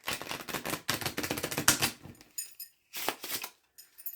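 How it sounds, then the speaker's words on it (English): A deck of playing cards gets shuffled up close, giving rapid riffling bursts of fluttering clicks that stop and start in short runs, with brief quiet gaps between and no talking. "I'm not a professional shuffler."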